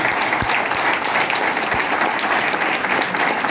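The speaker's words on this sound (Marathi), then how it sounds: "या सर्व लोकांसाठी मनापासून टाळ्या झाल्या पाहिजे." An audience at a Marathi talk gives a dense, steady round of applause from many hands, loud and continuous throughout with no voices over it.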